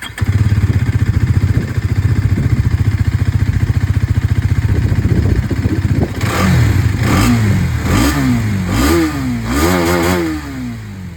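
A 2025 Hero Xtreme 250R motorcycle engine idles with a loud, even, close thumping, then is revved in several sharp blips that rise and fall in pitch.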